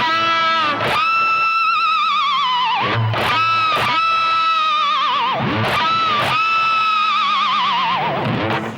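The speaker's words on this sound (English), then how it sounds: "a pinched harmonic lick added with the tremolo arm" Squealing distorted guitar pinched harmonics dive and wobble in pitch via the tremolo arm, sounding almost like a whinnying horse, repeated several times with short picked accents between.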